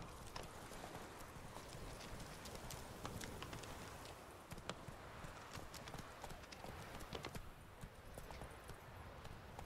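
A horse in The Witcher 3: Wild Hunt – Hearts of Stone clip-clops steadily at a walk across a tiny bridge just wide enough for a horse, with the hooves close and rhythmic over a soft outdoor background.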